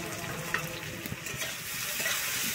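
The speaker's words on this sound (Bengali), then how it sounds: "আমার কিন্তু আলু বেগুনটা এখানে ভাজা হয়ে গেছে।" Potato and eggplant frying in a pan, a moderate steady sizzle with light crackles and a few soft knocks, close and fairly quiet, no talk.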